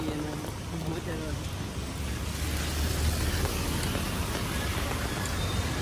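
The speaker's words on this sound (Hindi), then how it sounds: "ये बारिश भी चालू हो गई है" Steady rain hisses in a dense wash of noise outdoors at night in Vadodara, Gujarat, with a low rumble underneath that grows slightly louder partway through.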